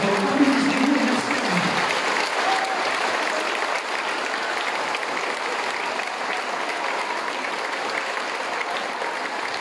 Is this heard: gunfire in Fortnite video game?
no